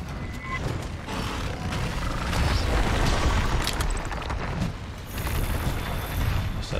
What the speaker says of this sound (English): Man, so many bombs everywhere.